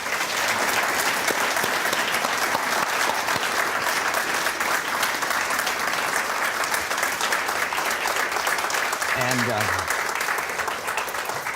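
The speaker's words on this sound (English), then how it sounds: "let's give Randy Day a big round of applause for being with us" An audience at a McDaniel College talk applauds guest speaker Randy Day of Perdue Farms, a steady, dense round of clapping that holds loud for the whole stretch, with a brief voice near the end.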